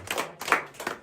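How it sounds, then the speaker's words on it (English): Brief scattered round of hand clapping from a small tour group inside a cave, a few quick sharp bursts of claps, close and fairly quiet. "Hey guys, big round of applause for Betty in the back"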